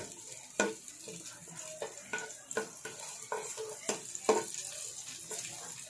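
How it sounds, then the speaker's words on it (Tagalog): Garlic and onion fry in oil in a pan, a soft steady sizzle broken by repeated scraping stirs of a utensil at close range. "Pabrown lang natin ng konting bawang."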